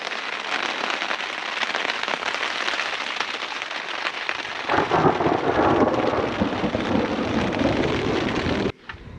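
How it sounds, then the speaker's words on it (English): Heavy desert rain pours steadily while thunder rumbles and cracks, growing louder and deeper midway before the sound cuts off abruptly near the end. "Waiting out a storm"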